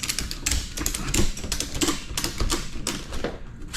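Ratchet strap being pulled tight to secure a truck load, a steady run of rapid clicking ratchet strokes up close, with short bursts and brief pauses between pulls.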